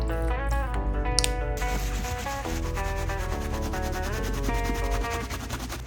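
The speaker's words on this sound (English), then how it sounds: "Start with the soft bristle brush, then medium, and finish it off with the stiff." Bristle brush scrubbing suede shoe uppers soaked in cleaning solution, a steady close rubbing and scratching sound with wet sudsy texture, continuous and alone.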